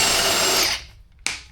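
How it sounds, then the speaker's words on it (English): A power tool whirs loudly while spinning lug nuts off a 2007-2015 Mazda CX-9 wheel, then cuts out, followed by a short second burst, all close and without talking. "Alright, gonna take lug nuts off."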